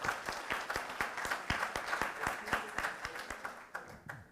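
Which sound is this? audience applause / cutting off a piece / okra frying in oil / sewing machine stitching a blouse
audience applause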